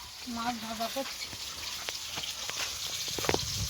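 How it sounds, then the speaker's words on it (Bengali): Fish frying in a pan in an outdoor kitchen, a soft continuous sizzle with small crackles and ticks, with a voice speaking briefly at the start. "মাছ ভাজা করছি।"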